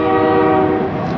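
A train horn blares loud and steady while a train passes near a forest road, a continuous sustained honk over low rolling rumble.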